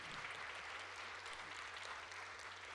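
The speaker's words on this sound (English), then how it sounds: "let's give them a round of applause" Quiet, distant applause from a church congregation during a Sunday service, steady clapping with a low hum underneath.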